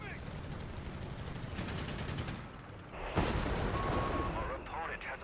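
In a real-time strategy game match, artillery shells hammer an anti-tank gun, sending out a barrage of heavy booms and rumbling blasts that builds to louder, denser impacts, with a caster talking over it.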